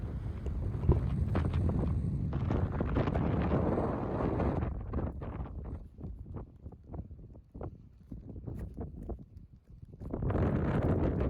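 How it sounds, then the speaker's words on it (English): Strong wind buffets the microphone on the exposed summit of Yes Tor on Dartmoor, a loud, gusting roar that rises and falls, easing briefly in the middle before surging again, with no voices. "It was too windy for me to be able to record any voice over the top of it"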